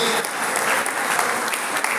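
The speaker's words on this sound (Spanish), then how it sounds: "¿Cuántos pueden dar un fuerte aplauso al Señor?" Dense, loud applause from a church congregation, steady broadband clapping throughout the two seconds with no voices breaking through.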